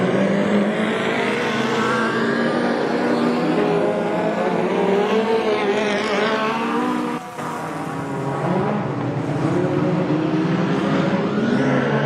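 National 4s speedway race cars roar around Gympie Speedway in a sustained, loud engine drone that swells and shifts as the pack accelerates past, with brief dips between.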